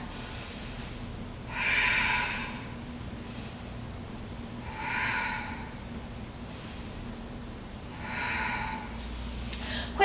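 Three slow, deep breaths during a heart-opening yoga flow, each a soft airy rush spaced a few seconds apart, close and fairly quiet, with no talking.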